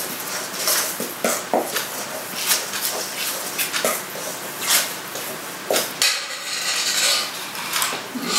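Pizza toppings with basil are stirred in a bowl, giving repeated clinks and scrapes of a utensil against the dish at close range, in irregular bursts.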